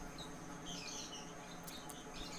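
Caged lovebirds give faint, scattered high chirps and tweets over a low steady background hum, with no one speaking.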